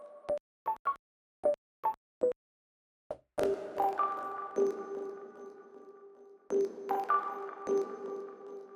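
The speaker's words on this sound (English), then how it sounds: "Let's listen to the bell sound before and after the effects." A sampled bell in Ableton Live 12 plays first as several dry, short pings, then again with delay and reverb, chimes ringing out and echoing into a spacious tail.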